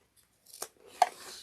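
Scissors snip thread beside the stitching of a sewn tote bag, two quick sharp cuts close by in an otherwise quiet room.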